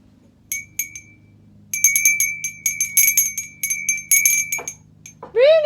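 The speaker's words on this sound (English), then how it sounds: "Maybe if I ring me bell," A small hand bell rings in quick, bright repeated jingling bursts, clear and close, with short pauses between the rings.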